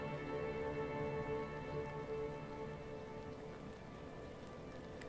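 Rain falling in the video game Atuel, a soft steady patter over a sustained tonal music bed, even and continuous throughout without any speech.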